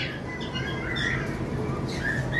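Caged lovebirds of mixed blue and violet mutations give shrill, overlapping squawks and chirps, loud and continuous, with no one speaking.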